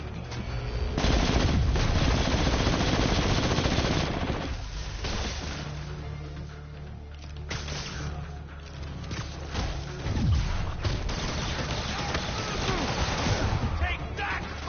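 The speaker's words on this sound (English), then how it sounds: "Oh, minigun thugs." Minigun-wielding thugs firing in the Spider-Man PS4 video game, rapid sustained bursts of gunfire mixed with game effects and music, with someone talking over parts of it.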